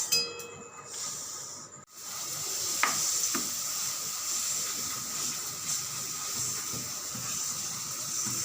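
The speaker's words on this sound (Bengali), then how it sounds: "কড়াইতে তেল দিয়েছি।" Oil heating in a kadai (wok) gives off a steady, quiet sizzle and hiss, broken by a couple of brief clinks early on.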